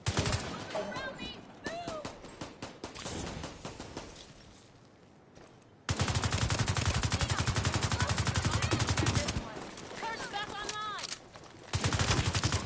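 Gunfire in the video game The Division 2, loud sustained automatic bursts and rapid shots that break off into a brief lull before another long barrage, with a voice speaking over parts of it.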